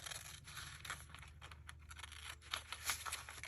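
Scissors snipping white paper for a junk journal page, a close series of soft crisp cuts and faint rustles over a steady low hum, no talking.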